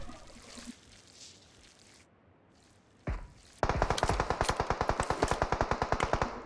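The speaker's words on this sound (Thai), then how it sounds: "ยังยิงอยู่นะครับ" Automatic gunfire in PUBG Mobile, a rapid run of evenly spaced loud shots after a single earlier blast and quiet ambient game sound, no talking.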